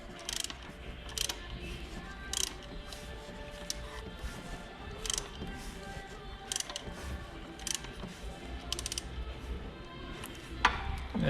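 A ratchet wrench turns the crankshaft of a Peugeot 307 1.4 petrol engine by hand to check the timing belt tensioner, giving repeated quiet clicking bursts in steady rhythm, close up, with no talk.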